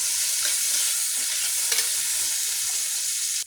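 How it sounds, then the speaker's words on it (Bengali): Food sizzles steadily in a hot pan while being stirred, with faint scraping, close up and without speech. "এটাকে কষাবো ভালো করে"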